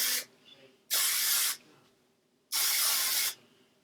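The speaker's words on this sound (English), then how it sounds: "I'm going to take my Moroccan oil hairspray and just give it a little" Moroccan oil hairspray misted onto curled hair in three bursts, one short and two longer, each a close, loud aerosol hiss with quiet pauses between.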